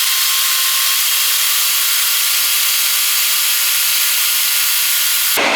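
A blender on high grinds dry eggshells into powder with a loud, harsh, continuous whirring roar up close, then cuts off abruptly at the end, with no talking.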